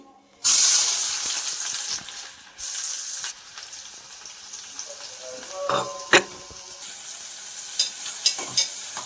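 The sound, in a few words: chopped onions frying in oil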